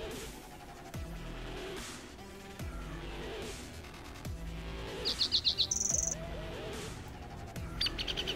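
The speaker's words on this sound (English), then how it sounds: "Beautiful chirping birds." Birds chirp in the Minecraft Tekkit Classic game world, with a quick run of high tweets and a brief trill standing out over repeated low thuds and game ambience.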